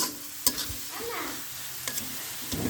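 Shapla greens fry in mustard oil in a pan, a continuous close sizzle broken by a couple of sharp spatula clanks and stirring scrapes.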